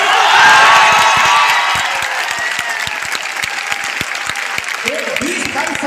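A seminar audience rises and claps for a young woman, a loud burst of applause with cheering that swells at first, then settles into steady clapping while someone speaks over it.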